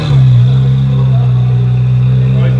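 A Ferrari 458 engine on a dyno hums at a steady, loud idle-like pitch with a brief rise early on, the tone holding constant throughout.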